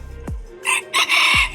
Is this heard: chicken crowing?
yes